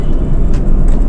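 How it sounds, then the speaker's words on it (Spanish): An automatic car cruising down a highway slope with a steady, loud low engine and road rumble throughout and a couple of brief swells of wind or passing traffic. "el carro siempre va a tirar a bajar todas las revoluciones"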